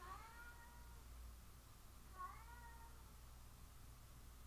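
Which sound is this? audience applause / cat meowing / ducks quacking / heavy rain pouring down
cat meowing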